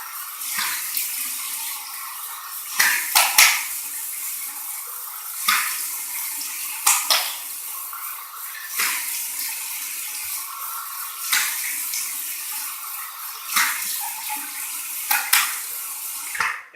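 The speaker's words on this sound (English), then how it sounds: "Now I like to turn it to cold, get a nice cold water rinse out of the tap" A tap runs with cold water while the face is rinsed after a classic shave, a steady close hiss of flowing water broken by repeated splashes as hands scoop and rinse.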